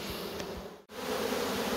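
A honeybee colony in an opened hive gives a steady, dense, close-up buzz that holds for the whole stretch, with one brief dropout partway through.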